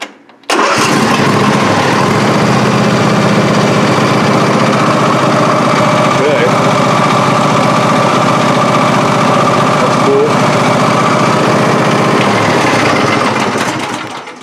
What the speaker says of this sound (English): I'm gonna see if it see if it fires up easy here or what